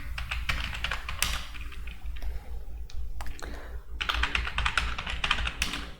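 Typing on a computer keyboard while entering a receipt voucher in Tally Prime accounting software, a brisk, close clatter of keystrokes in rapid bursts with brief pauses between them.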